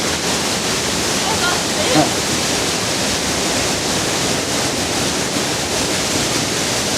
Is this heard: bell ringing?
no